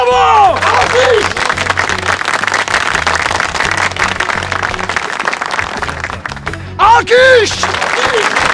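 Loud, continuous applause from a large audience fills the whole stretch with dense crowd clapping, while voices call out over it near the start and again toward the end.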